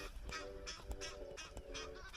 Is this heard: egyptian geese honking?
yes